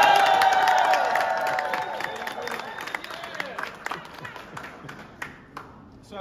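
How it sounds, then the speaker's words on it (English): An audience at an evening unveiling event applauds in a dense burst of clapping and cheering that fades gradually over several seconds, leaving a few scattered claps at the end. "So can we do better and give him a big applause?"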